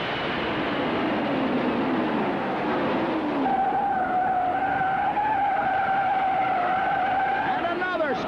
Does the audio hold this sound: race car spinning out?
yes